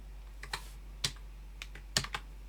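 Keys on a computer keyboard clack in short irregular bursts, a handful of close, crisp taps separated by brief pauses over a quiet hum.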